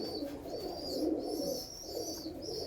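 Several male pigeons kept in a loft coo in a steady low rumbling murmur, overlapping and continuous at moderate loudness.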